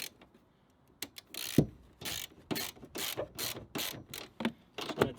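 A ratchet tightening a 17 mm nut on a Jeep Wrangler cargo bag mount, with a quick run of close, crisp clicking strokes after a brief quiet start and no talking.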